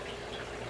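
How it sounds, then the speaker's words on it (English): Faint, steady trickle and splash of water falling from an undergravel filter air intake into the grow medium of an indoor aquarium aquaponics system, continuous with no distinct drips standing out. "has a forced pressure out of the air intake on the undergravel filter, which is dripping in here at quite a rate"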